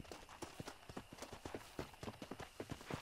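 Horse hooves clip-clop steadily in Red Dead Redemption, a quick repeated rhythm of sharp close knocks running throughout.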